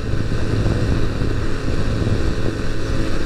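A Honda Super Cross Cub 110 climbs a gentle uphill grade at full throttle, its small engine droning steadily and close, mixed with wind buffeting the microphone, with no speech.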